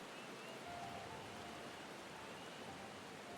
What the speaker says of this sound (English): Wet rain.